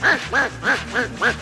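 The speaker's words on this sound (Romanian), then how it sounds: "Trenulețul e grozav, dar are un claxon să jur că-i rață." Five loud, evenly spaced nasal honks, each a quacking duck-like toot from a toy electric train's horn, repeating in a steady rhythm.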